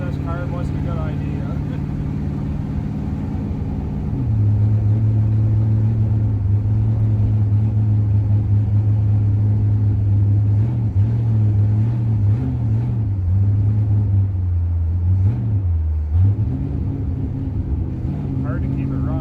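A 1966 Oldsmobile 88 with a 425 big block and a vacuum secondary carburetor idles roughly, its loud, close drone dropping in pitch and wavering unevenly as it struggles to keep running.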